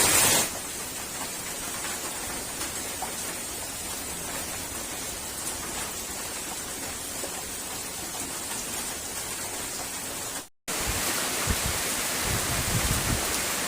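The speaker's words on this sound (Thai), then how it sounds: "ยินเสียงฝนตกไหมครับ หนักหนาเม็ด ตอนนี้ตกมาร่วม หนึ่งชั่วโมงแล้วครับ" Heavy rain pours steadily at night behind a house, a dense, continuous hiss of falling water close by, with a brief dropout near the end before the downpour resumes.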